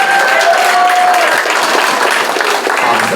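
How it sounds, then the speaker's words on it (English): At SamiCon 2019, a crowd gives loud, continuous applause for the contestants of a 12-and-under round. The clapping is dense and sustained for about three seconds, and a brief whistle rises over it at the start. "We're now going to start a round of applause,"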